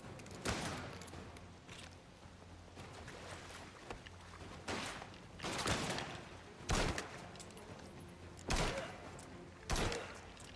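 Pistol shots in the video game Mafia: The Old Country ring out as about seven sharp, loud reports spaced one to two seconds apart over a low ambient background.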